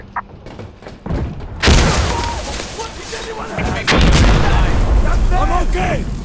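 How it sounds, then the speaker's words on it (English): A grenade explodes in the shooter game Insurgency Sandstorm with a heavy, loud boom, followed by a second blast and sustained rumbling, while gunfire crackles and players shout over the din. "There's a grenade!"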